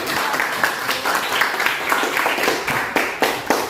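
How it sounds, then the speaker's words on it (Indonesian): A small group of students claps in a classroom, producing a loose, uneven burst of sharp hand claps at moderate volume, fairly close, with individual claps standing out near the end. "Oke, boleh tepuk tangan."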